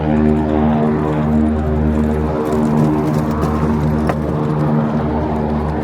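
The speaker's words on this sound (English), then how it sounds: "Sounds like one of the hydroplanes is taking off." A loud, steady propeller-engine drone fills the whole stretch and holds strong without pause as a seaplane takes off nearby at a lakeside marina in Coeur d'Alene, Idaho.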